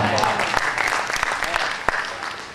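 Steady audience clapping fills a poetry recital hall, a dense patter of many hands with a few sharper claps standing out, continuing evenly throughout.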